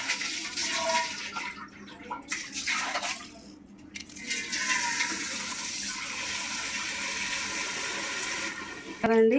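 Water runs and splashes steadily over cut pieces of ragandi fish in a container for several seconds, with a brief voice early on and a sharp clatter at the end.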